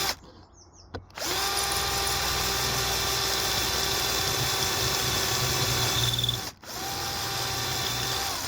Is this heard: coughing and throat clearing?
no